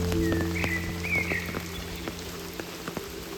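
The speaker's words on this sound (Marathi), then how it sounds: "पाऊस तर खूप आहे" Heavy rain falls in the forest on the Bhimashankar Ganesh Ghat trek, a dense steady patter of drops close around, with a faint bird call and a low hum underneath.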